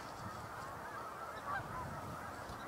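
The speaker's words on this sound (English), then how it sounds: "there's a lot of snow geese out there right Love now" Snow geese honk outdoors as a distant, fairly faint flock, their calls rising a little midway over a constant murmur of background noise.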